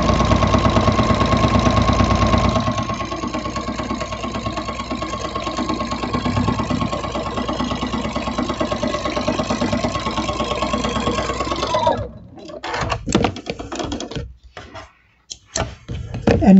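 Domestic sewing machine running steadily while stitching through a Christmas quilt, a loud continuous mechanical hum for about twelve seconds before stopping, followed by scattered handling clicks and rustles.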